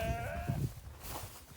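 A sheep bleats once close by in a pasture, a short wavering call at the start, followed by quieter shuffling and farmyard noise.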